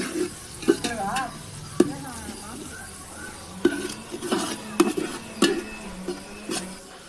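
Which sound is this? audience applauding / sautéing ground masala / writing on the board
sautéing ground masala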